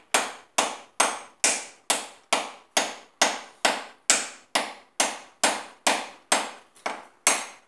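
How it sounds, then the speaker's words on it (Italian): Steady, evenly spaced hammer blows on a hard coconut shell, about fifteen sharp knocks at roughly two per second, close by with no voices. "Prendiamo delicatamente il cocco a martellate"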